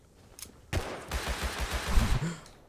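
Gunfire in the video game Rust: a faint shot or two, then a rapid burst of automatic fire rattling for about a second and a half before trailing off, fairly distant and moderately quiet.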